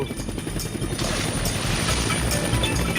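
Loud, continuous rotor-like chopping from a cartoon helicopter in a chaotic animated scene, with dense rumbling and clattering noise filling the whole stretch.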